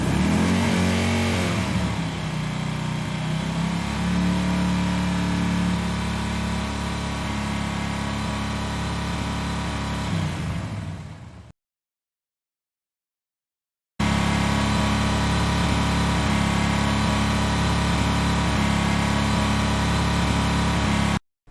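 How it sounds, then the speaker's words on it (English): Looped car engine sound effect from the Void Racer game, a loud continuous engine drone with a revving rise at the start, cutting to silence briefly before the engine loop resumes. "this is what the actual clip of the engine sounds like"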